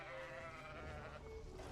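Faint sheep bleating in a video game, one drawn-out wavering bleat heard quietly over a steady background wash with no talking.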